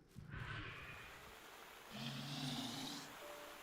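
A monster in a video game snores in two long, rumbling breaths, low and raspy with a hoarse upper rasp, heard alone at moderate distance without talk.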